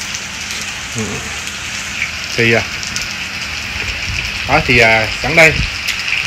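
Rain in a wind storm makes a constant hiss of falling water behind a nearby voice talking in Vietnamese, with the rushing noise continuing evenly between and under the speech.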